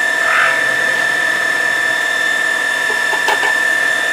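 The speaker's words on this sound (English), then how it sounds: "chamfering on both sides." A power tool chamfers both sides of a workpiece, giving a steady high-pitched whine with a constant tonal hum and a brief scraping touch near the end, loud and close.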